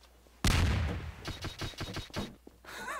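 Bombs in the Garry's Mod game MelonBomber burst in a loud sudden blast, followed by a rapid string of several sharper explosive pops in quick succession, close and prominent.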